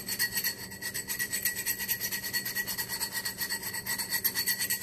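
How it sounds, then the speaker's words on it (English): A cracked glass bottle is sanded with a foam sandpaper block, quick rhythmic back-and-forth rasping strokes, fairly close and moderately quiet, with no talking. "sand it down really good"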